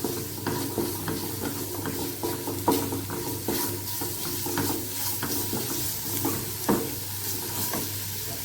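Spiced masala with garam masala for chickpea masala sundal sizzles steadily in a hot pan while a spoon stirs and scrapes at an irregular rhythm, close and moderately quiet.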